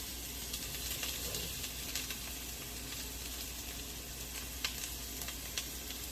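Cooking wine hits a hot pan and sizzles in a soft, steady, crackling hiss that continues evenly throughout without any talking.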